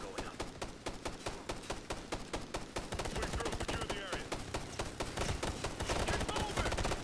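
Sustained light machine gun fire in Ghost Recon: Future Soldier, rapid evenly spaced shots rattling continuously for several seconds and growing slightly louder and denser toward the end.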